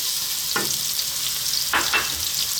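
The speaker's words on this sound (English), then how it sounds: "Let's drop in our onion" Chopped onion dropped into hot sunflower oil in a pan gives a steady close sizzle, with two louder bursts of crackle as pieces hit the oil.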